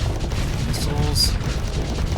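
Missiles launch and explode in the space combat game Starsector, heard as a dense, booming low rumble with brief bright bursts layered on top over about two seconds.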